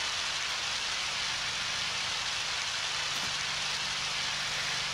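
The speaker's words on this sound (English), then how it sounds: "Strolling along in the rain." Steady rain falling in the video game Undertale, a constant even hiss with no other sounds over it.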